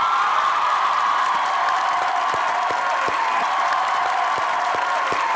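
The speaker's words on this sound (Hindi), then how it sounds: "तो मैं बुलाने जा रहा हूं ज़रार की लीडिंग एक्ट्रेस को, आपकी भरपूर तालियों में।" A studio audience claps and cheers to welcome actress Kiran Malik onto a talk show, a dense steady wash of applause with scattered sharp claps, loud and sustained.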